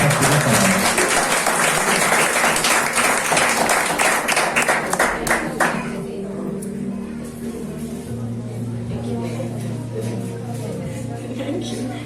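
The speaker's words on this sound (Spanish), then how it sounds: "¿Qué tal si le damos un fuerte aplauso a Dios" Loud applause from a church congregation fills the first six seconds, then fades as a voice and low background sounds take over.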